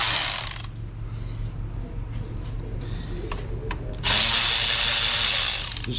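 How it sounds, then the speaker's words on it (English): Hose clamps being loosened on the air intake of a 2021 Jeep JL, giving faint mechanical clicks and ratcheting over a steady low hum, with louder hissy bursts at the start and end. "We'll just go ahead and pull these clamps off or loosen them up first."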